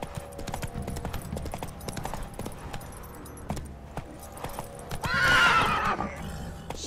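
Hooves of Roach, a horse in The Witcher 3 video game, clip-clop steadily at a gallop over a game soundscape, with a loud whinny near the end.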